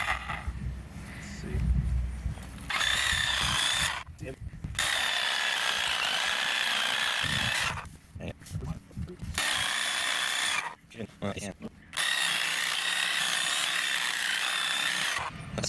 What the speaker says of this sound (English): That's a pretty good saw, isn't it?